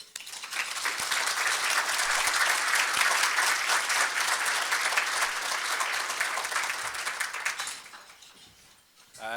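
Warm applause from an audience welcoming Minister Sean Fraser at a distinguished speaker series event, a sustained wash of clapping for about eight seconds before fading out.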